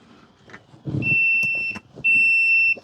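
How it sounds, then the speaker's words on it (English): Two sustained electronic multimeter continuity beeps, each under a second, close and loud, with soft clicks and handling noises around them, while testing a John Deere 727A mower's seat switch. "This one just happens to beep when I do that."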